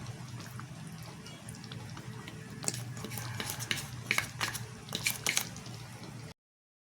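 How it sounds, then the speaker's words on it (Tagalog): A spoon stirs ham macaroni with spaghetti sauce in a pan, giving soft wet squishing and scraping that grows into a few sharper clinks near the end before cutting off. "Haluin natin mga friends."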